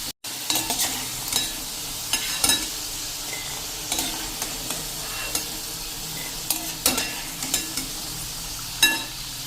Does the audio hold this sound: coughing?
no